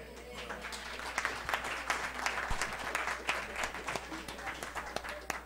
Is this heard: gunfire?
no